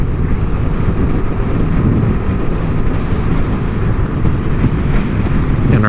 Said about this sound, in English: hear some of the gusts, but even though the trees are still, there's still a good amount of wind here